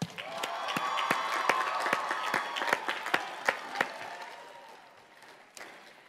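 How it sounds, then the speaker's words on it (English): Audience applause at a 2018 college of agriculture commencement ceremony: sustained clapping from a large crowd with sharp individual claps standing out, fading toward the end. "let's offer them a round of applause."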